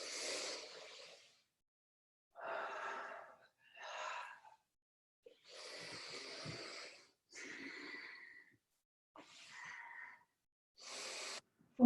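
Steady Pilates breathing during roll-ups, with close, soft, breathy exhales and inhales that alternate in a slow, even rhythm and fall silent between breaths.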